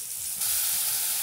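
Spice paste dropped into hot oil with whole white cumin, bursting into a loud, sharp hiss that jumps up and holds steady for a second, close and without voices.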